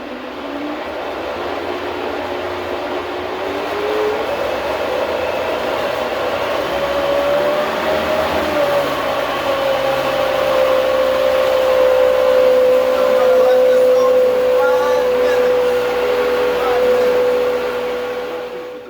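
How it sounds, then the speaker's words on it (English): A Vitamix blender runs on high, whirring through chipotle hummus with a loud, steady roaring drone whose pitch settles and holds before slowly winding down. "leave it on high in this Vitamix here"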